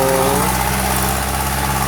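A six-wheel truck engine arriving at a dirt-dumping work site, a steady rumbling idle with a low droning hum, close and continuous.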